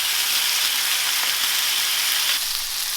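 Thin slices of prosciutto cook in a hot pan, giving a loud, even hiss of sizzling fat up close that holds steady with only slight swells and no voices.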